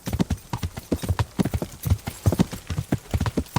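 Horse hooves clip-clop at a steady trotting rhythm in the video game Kingdom Come Deliverance, close and fairly quiet, with a brief soft murmur of voice at the edges.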